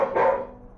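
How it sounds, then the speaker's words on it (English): A single short, loud bark from a dog inside an RV, close and alone. "barking came from inside the RV."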